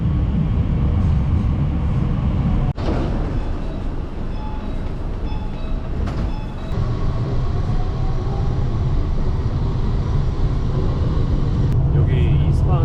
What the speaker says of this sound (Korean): 여기 이스파한 지하철은 완전 신식이네요.